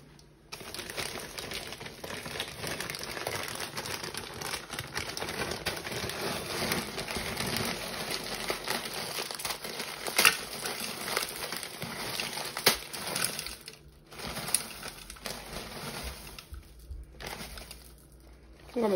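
Frozen peas, 300 g, tumble and rattle into a Thermomix TM6 bowl as a dense, crackling patter that runs steadily for most of the stretch, with a few brief pauses and sharper clicks near the end.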